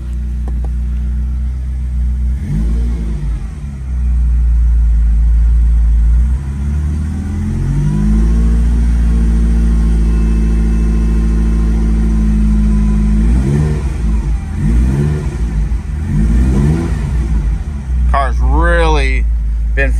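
A 1983 Ferrari Mondial Quattrovalvole V8 idles from a cold start with a deep, steady rumble, then revs up and settles back down several times, with a voice speaking over it.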